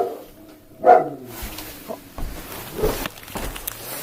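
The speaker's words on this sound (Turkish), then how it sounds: "köpek sesi. Köpek." A single short dog bark rings out at night in an otherwise quiet outdoor setting, followed by faint rustles and low background sounds.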